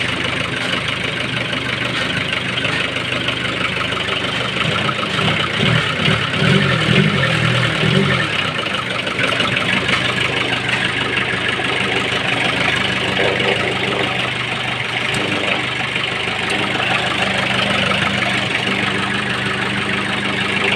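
Nissan CD17 diesel engine, recently overheated, idling steadily and close by, a continuous loud rumble with a low, even throb throughout, with brief faint voices only in the background.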